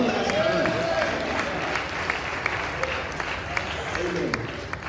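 A church congregation at a Baptist service claps together in a steady, moderately loud wash, with voices murmuring and calling out underneath and a few sharper individual claps standing out.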